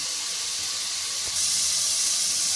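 Green chillies and mixed vegetables frying in a pan for a flattened-rice (chire) pulao, giving a steady, close sizzling hiss that grows slightly louder partway through, with no talking.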